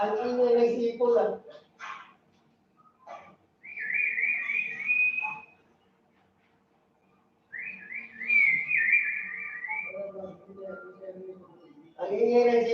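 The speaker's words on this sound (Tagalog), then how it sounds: "Ang ingay ng sipol dito." Loud, rising whistles in two long bursts, with people talking before, between and after them.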